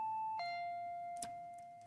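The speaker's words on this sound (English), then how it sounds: "I finally realized it was the doorbell" A soft electronic doorbell chime in the video game Higurashi When They Cry Hou rings two tones, high then lower, followed by a brief click; quiet and clean with nothing else around it.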